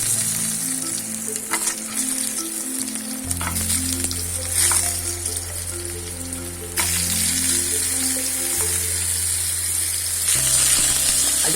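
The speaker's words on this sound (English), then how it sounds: "Just wait for the oil to heat up nicely, and then we will be putting in the potatoes." Potatoes fry in hot sunflower oil for a Bengali luchi and alur dum recipe, giving a steady loud sizzle and crackle with stirring noises and a faint low hum underneath, and no talking.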